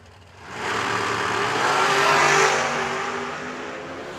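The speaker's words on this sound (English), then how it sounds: "That Farmers Insurance machine dialed 442 to Dennis's 466." Drag racing car making a full-throttle pass at a drag strip during the Ultimate 64 event, a loud broadband engine roar that swells in, holds steady for a few seconds, then fades slightly as it passes.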